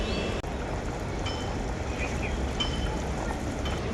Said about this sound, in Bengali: ঝোলটা খুব ভালোভাবে ফুটে গেছে